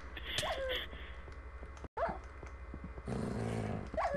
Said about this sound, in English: There's a dog! Kill it, don't let it kill you.